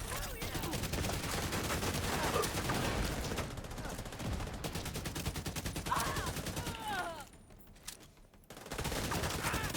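Rapid, continuous turret fire in a video game, a dense rattling stream of shots that runs almost the whole time, dips briefly near the end and then resumes, with faint voices underneath.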